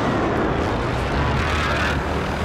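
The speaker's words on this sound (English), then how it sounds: "Should get the heli and go." A Call of Duty helicopter roars up close in a dense, steady rotor and engine rumble, loud and continuous through the short stretch.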